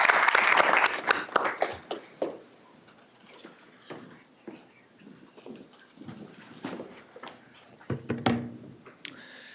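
Applause from the audience at a school board of education meeting, a burst of clapping that fades into scattered claps and room noise.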